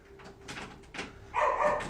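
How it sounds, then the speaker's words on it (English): A few short dog barks, close by, ending in a louder yelp-like burst among some clattering noise. "Dogs barking and everything."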